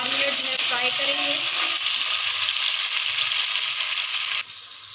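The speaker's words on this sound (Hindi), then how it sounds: "3 से 4 अदद जो है प्याज कटी हुई वो इसमें ऐड करेंगे और इसको 3 से 4 मिनट जो है फ्राई करेंगे" Chopped onions frying in cooking oil give a steady, loud bright sizzle throughout, with a faint voice and clinks early on, the hiss dropping in level near the end.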